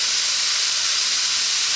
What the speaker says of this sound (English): Frying this rice, trying to get a bit of colour on the rice.